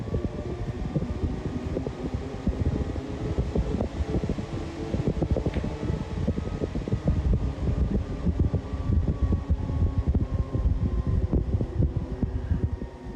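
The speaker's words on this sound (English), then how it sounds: "that's showing us a very small amount of noise that we're getting from the fans" Cooling fans on a Tacx NEO smart bike run at a speed-controlled setting matched to about 12 to 14 km/h, giving a steady, low, even whoosh of moving air that holds constant throughout.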